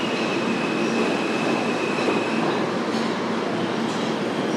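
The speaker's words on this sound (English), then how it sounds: "There's that train. That R train is crowded." A crowded New York R subway train rumbles loudly and steadily through the station, a dense roar with a faint high whine running through it and no voices.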